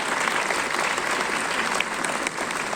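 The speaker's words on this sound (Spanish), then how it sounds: "creo que están aplaudiendo poco para las historias de vida de estas ciudadanas de estos ciudadanos" A large audience claps steadily and loudly at a political campaign rally in Quito, a dense continuous wash of applause with occasional louder claps and a slight dip near the end.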